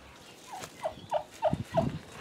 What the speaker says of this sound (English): we have our turkeys moved out here now